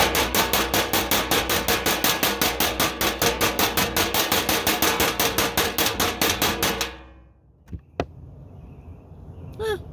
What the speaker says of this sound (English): I wonder if I can be louder if I use my stick on my spoon and a stick I found here in the park